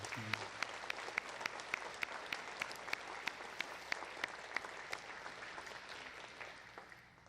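Church congregation applauding together during a Sunday worship service, dense sustained clapping that fills the room and slowly fades toward the end, with no talking over it.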